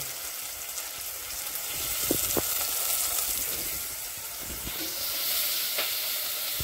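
Tomatoes go into a hot pan of Maggi with green chillies, giving a steady sizzle and hiss with a few sharp spatters and the scrape of stirring, close and moderately loud.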